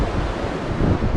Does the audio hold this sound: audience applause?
no